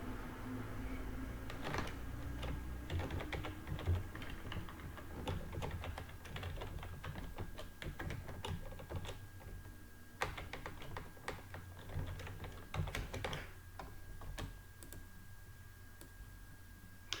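Someone types on a computer keyboard while entering data into an electronic spreadsheet, producing quick, irregular bursts of close, light key clicks that run steadily throughout with no talking over them.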